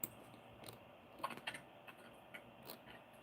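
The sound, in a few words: typing on a loud computer keyboard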